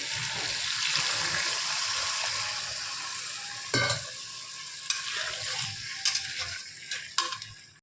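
Vegetables frying in a pan for semolina upma as water goes in, a hissing sizzle that settles, followed by several scattered clanks and scrapes of a spoon stirring the pan.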